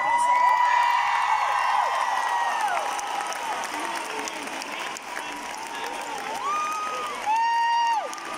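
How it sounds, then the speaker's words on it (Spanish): Loud, sustained applause and cheering from a large concert audience at the tour finale in the Palau Sant Jordi arena, a dense wash of clapping with whoops and whistles, and crowd voices mixed in throughout. "por favor, con un fuerte aplauso."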